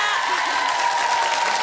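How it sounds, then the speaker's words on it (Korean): Studio audience applause for actress Kim Hye-soo on a KBS Sunday-evening variety show, a steady dense wash of clapping filling the whole moment, with a faint sustained tone running beneath it. "김혜수 씨에게 박수를 보내주십시오."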